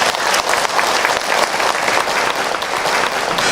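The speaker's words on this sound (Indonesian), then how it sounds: "Tepuk tangan dulu, Bu." Dense audience applause at an Islamic religious lecture, a continuous wash of many hands clapping close by, steady throughout with no break.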